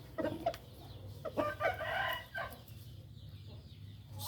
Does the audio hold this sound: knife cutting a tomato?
no